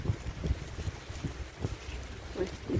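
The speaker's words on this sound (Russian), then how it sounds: "Сегодня ветер сильный." Strong wind buffets the microphone in heavy, uneven gusts, with low rumbling bursts rising and falling and no talking.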